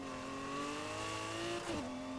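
A twin-turbo V12 engine in the racing video game Need for Speed Heat revs hard with a sustained, loud, high whine, then dips briefly as it shifts before climbing again, with no one speaking.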